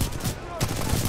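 Sustained gunfire in the video game Titanfall 2, dense and loud automatic shooting that briefly thins out in the middle before resuming at full intensity.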